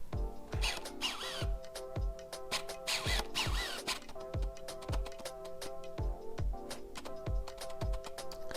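Autofocus motor of a Yongnuo 35mm lens mounted on a Canon 1500D camera, giving a steady run of close, quiet clicks and whirring ticks that repeat in quick bursts throughout.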